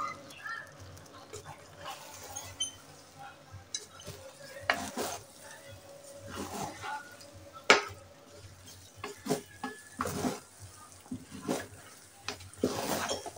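Egg and potato being stirred into egg biryani in a cooker: repeated close scraping and stirring strokes with a soft sizzle underneath, uneven in rhythm and steady throughout.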